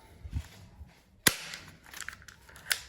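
A sharp, loud crack of a metal toy Colt Python 357 revolver, Galaxy G36, firing once, followed by faint clicks and a second softer snap, no voices.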